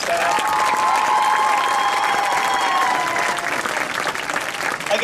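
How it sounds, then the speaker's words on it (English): An audience at a school band preview night claps for students and staff, a steady, close round of applause that fades slightly toward the end. "Can I have a round of applause for our wonderful students and staff?"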